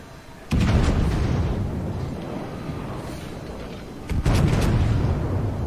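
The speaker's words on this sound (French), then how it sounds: "Là, il vient de se faire prendre une torpille, le Warspite" Two heavy booming blasts from a torpedo striking the battleship Warspite in World of Warships, each loud, close and rumbling, with a long roaring decay and no talk over them.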